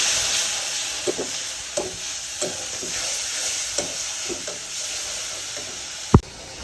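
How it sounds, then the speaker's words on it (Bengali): Shrimp coated in turmeric and salt sizzle in mustard oil in a wok, a continuous hissing fry broken by repeated light scraping stirs and a sharp clank near the end. "কড়াইতে দিয়ে দিয়েছি সরিষার তেল, আর এখন হচ্ছে হলুদ আর লবণ দিয়ে দিয়েছি চিংড়ি মাছে"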